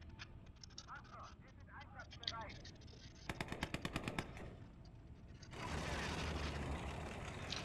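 Machine gun fire in the World War II strategy game Gates of Hell sounds as a rapid, regular burst of sharp shots, set among battle noise and rumbling, with a voice speaking early on.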